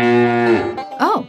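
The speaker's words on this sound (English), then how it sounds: "A sound that goes moo, moo, moo, moo." A single cow gives a long, loud moo on a farm, close and clear, ending in a short rising vocal tone.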